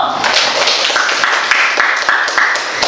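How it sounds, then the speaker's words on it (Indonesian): A class of students applauds group 1 in an Indonesian classroom, a steady run of quick, close handclaps lasting a few seconds with voices mixed faintly underneath. "beri aplaus untuk kelompok 1"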